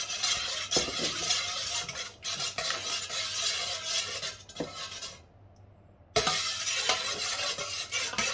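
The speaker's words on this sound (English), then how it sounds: "Okay, stir it all up." Beef noodle soup being stirred in a pot, with steady scraping and clinking of utensil against metal, a brief quieter pause near the end before the stirring resumes, close and fairly loud with no talk.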